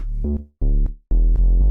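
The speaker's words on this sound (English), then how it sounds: "I also layered that with a really subby bass" Deep, booming sub bass notes from a Hybrid synth play alone, three long low tones separated by brief silences, with a soft clicky attack on each.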